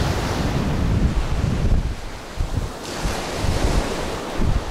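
Surf rolling onto a long, undeveloped beach on Thailand's coast, a steady roar of breaking waves mixed with heavy wind buffeting the microphone, with no voices.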